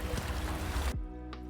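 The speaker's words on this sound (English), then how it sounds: "really all the sound you can hear is the lapping of the waves, the occasional seabird" Waves lapping on the shore of Sensuijima island, a soft wash of broadband water noise that cuts abruptly to a steady low hum for the remaining part.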